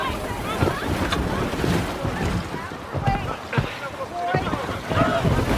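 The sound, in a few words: rescue boat on water in film Sully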